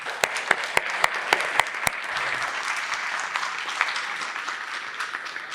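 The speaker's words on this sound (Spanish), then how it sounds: "Un aplauso para todos ustedes." An audience at an indoor conference on water and desertification claps in a steady, moderately loud round of applause, with a few sharper individual claps standing out before it gradually thins.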